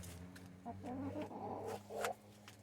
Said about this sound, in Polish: O, teraz sobie tutaj kury urzędują przy samym kurniczku swoim.